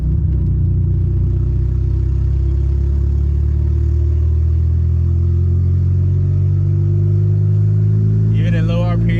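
A turbocharged D16Y8 Honda Civic with an open downpipe pulls on light throttle, its engine drone rising steadily and loud from inside the car, with a voice joining near the end.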